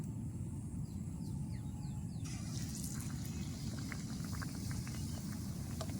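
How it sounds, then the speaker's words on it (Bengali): Gram-flour-battered pumpkin pieces frying in hot oil, a dense, steady sizzle and bubbling held at an even low level, with a few small pops and crackles scattered over it and no talking. "এবারে কুমড়াগুলো দিয়ে বেসনের সাথে মিশিয়ে তেলের মধ্যে ভাজে নেব"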